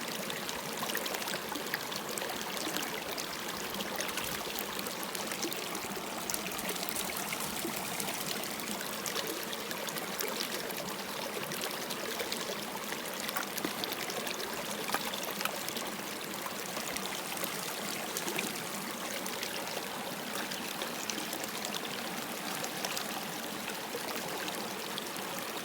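River water flowing steadily in Colorado while gold prospecting scoops are run, a continuous broadband rush and trickle at a consistent level with no speech.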